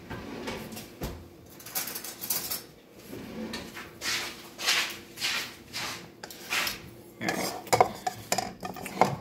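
Spoons and dishes clink and rattle in a home kitchen at breakfast time, irregular bursts of metallic clatter and scraping with short pauses between, close by and moderately loud, with no speech.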